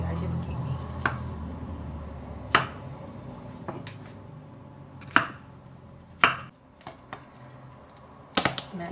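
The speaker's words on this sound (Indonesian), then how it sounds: "ini aku geprek bawang putih ya, geprek, kemudian cincang gitu aja, cincang kasar." A knife crushes and coarsely chops garlic cloves on a cutting board while preparing a chicken mushroom noodle dish, giving several sharp, separate thuds and chops spaced irregularly at close range.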